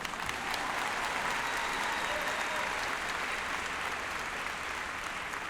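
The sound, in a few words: audience applause at commencement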